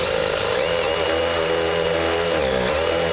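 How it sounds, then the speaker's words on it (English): A power drill whines steadily at close range, drilling holes in the upper grille of a 2020 Jeep Grand Cherokee, with a buzzing motor tone that dips slightly near the end, loud and continuous. "just drilling out some holes so we can get a little cutter in here"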